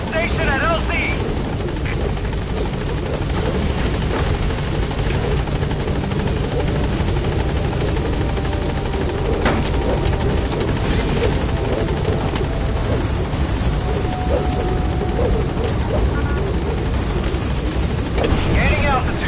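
Helicopter Pequod landing at the LZ in the video game Metal Gear Solid V, a loud, continuous rotor roar with mechanical whine and creaks throughout, close and steady, with voices over it.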